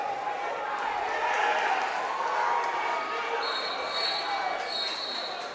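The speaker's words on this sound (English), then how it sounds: "You hear some cheering over in third place." Crowd cheering at a wrestling tournament finals, rising from elsewhere in the gym as a diffuse, fairly distant roar under a commentator's ongoing talk.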